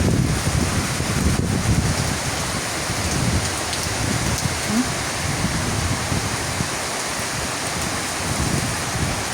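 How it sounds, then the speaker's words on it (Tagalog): Heavy rain pours steadily with gusts of strong wind, a dense continuous roar of drops hitting surfaces, loud and close throughout, with no talking. "arang kusugan na gyud sa ulan"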